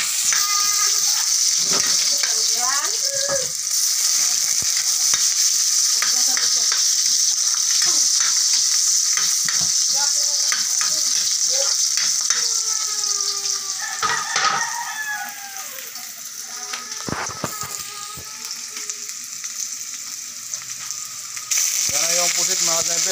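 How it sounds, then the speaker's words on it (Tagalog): Sliced squid sautéing in a pan before papaya and okra go in, a close, continuous sizzle and frying crackle broken by scraping and clinking stirring strokes. "Sado pa lang mga sniper bago lagyan ng papaya at saka okra."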